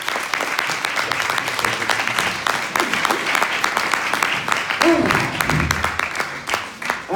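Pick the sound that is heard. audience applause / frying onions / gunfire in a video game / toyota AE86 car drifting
audience applause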